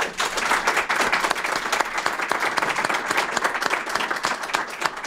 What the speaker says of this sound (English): Can we have a round of applause from the room?